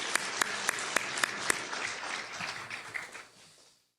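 A church congregation gives a round of applause, dense clapping with a few sharp louder claps standing out near the start, steady for about three seconds before it thins out and fades to silence.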